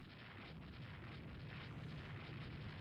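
The French battleship Strasbourg blows up after a hit in the naval strategy game Rule the Waves 3, a dense, steady roaring rumble that fills the whole stretch without letting up.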